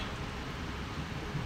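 Heavy rain falls in a steady, dense, even hiss throughout this brief moment, with no voices.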